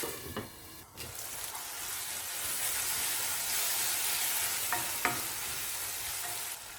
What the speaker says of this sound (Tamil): தக்காளி நல்லா வதங்கி வரணும்.